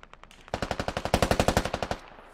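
Machine gun fire in the video game Squad from an MRAP's mounted gun, a sharp rapid burst of about fifteen loud evenly spaced shots after a few quieter lead-in rounds, with no talk.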